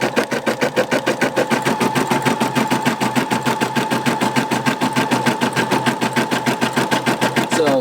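A Brother embroidery machine stitching a satin stitch on a plushie, a loud, fast and steady mechanical rattle of needle strokes running throughout.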